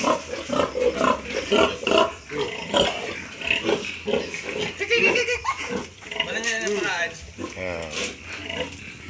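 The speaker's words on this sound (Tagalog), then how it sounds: "Narito na tayo kay Mama Pig." A mother pig (sow) grunts on a farm, her low rough snorts mixed with steady talking and some laughter from people close by.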